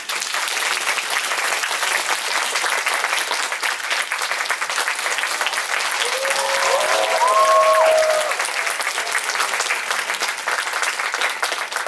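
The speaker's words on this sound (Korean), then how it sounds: "큰 박수 부탁드립니다" A large audience at a Korean talk event claps steadily and loudly for several seconds as two directors are welcomed, the applause swelling slightly toward the end before continuing at an even level.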